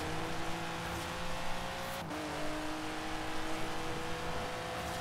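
In the racing game Forza Horizon 4, an RWB car's engine drones loudly and steadily at high revs as it accelerates, with a brief gear-shift dip partway through, and no talking.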